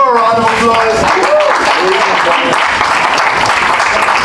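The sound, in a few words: audience applause for a poet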